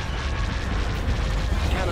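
Heavy cannon fire from Imperial warships in the space strategy game Star Wars: Empire at War, a continuous loud rumbling barrage of booming blasts with no gaps.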